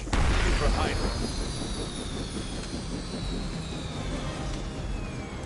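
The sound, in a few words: helicopter in Marvel's Midnight Suns video game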